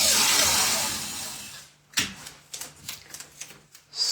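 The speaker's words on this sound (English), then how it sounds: "Now I'm taping to the edge and past it." Masking tape is pulled and pressed along the edges of a sheet of watercolor paper: a long, loud rip of tape unrolling, then a run of sharp, close crackles and taps as it sticks down.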